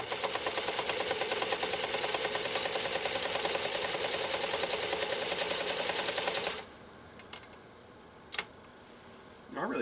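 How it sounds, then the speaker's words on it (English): A Necchi 523 sewing machine laying down a stretch stitch on cotton polyester blend, running in a fast, steady ticking rhythm for several seconds before stopping, followed by a few faint clicks and handling sounds. "this will be kind of a stretch stitch that we're laying down next to our initial straight stitch on this cotton polyester blend"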